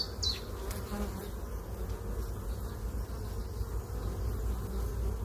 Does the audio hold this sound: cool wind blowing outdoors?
no